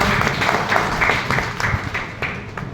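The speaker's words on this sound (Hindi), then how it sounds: "जोरदार ताली बजाएं।" Applause from attendees at the first meeting of a tractor operators' union in Marwahi, a dense, steady patter of many hands clapping close by for a few seconds, with faint voices mixed in.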